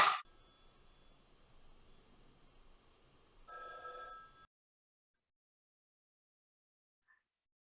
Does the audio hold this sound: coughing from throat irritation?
no